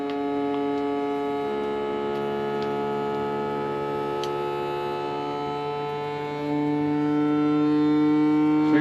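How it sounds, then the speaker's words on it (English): A vacuum sealer machine sucking air out of a bag inside a caravan, a steady droning motor hum with a constant tone that grows slightly louder near the end, with faint ticks. "we hit vacuum seal, and you can see she's sucking her away there"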